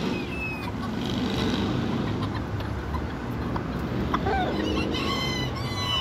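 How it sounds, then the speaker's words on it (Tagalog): Bantam chickens clucking with a rooster crowing, outdoors amid a busy ambient background, moderately near, short calls scattered across the clip. "Straight comb na si Omega Red."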